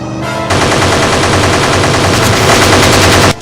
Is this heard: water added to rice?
no